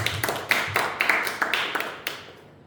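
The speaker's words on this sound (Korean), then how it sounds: "훌륭하다. 박수 한번 칠까요?" A small group of youth in a church service claps briefly in a few loose, uneven bursts, close and moderately quiet, fading out after about two seconds.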